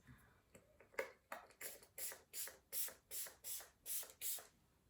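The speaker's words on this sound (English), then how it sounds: "spray my face with the Item One Hit Prime Set and Refresh Dewy Finish Face Mist" Dewy Finish face mist bottle sprayed in a quick series of about nine short, hissing pumps, close and fairly quiet, in a regular rhythm after a few faint clicks.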